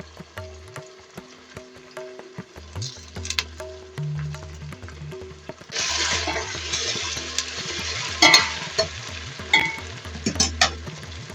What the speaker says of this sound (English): I'm going to stir this just so that the ginger and garlic also has some time to fry in the oil